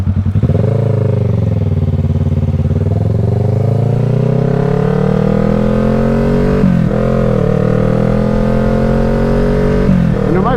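A Kawasaki Ninja motorcycle engine hums steadily while riding, its loud, close drone rising and falling smoothly in pitch as the throttle shifts, with no voices.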